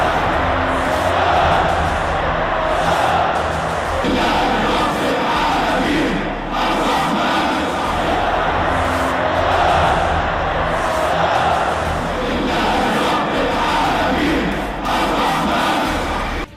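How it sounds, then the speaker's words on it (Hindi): A dense crowd chants and cheers as a freed prisoner is carried on supporters' shoulders, voices loud and continuous with repeating surges of massed shouting throughout. "भीड़ ने अल्लाहू अकबर के नारे लगाए"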